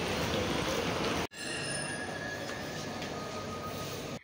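A metro train rumbles along steadily with a broad, constant roar and faint wheel squeal, interrupted by a brief cut early on.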